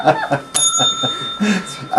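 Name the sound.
bell ringing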